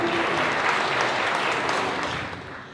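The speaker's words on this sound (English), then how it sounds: "Y'all can clap." Wedding guests applauding after a reading, a full, steady burst of clapping that holds firmly and then begins to fade toward the end.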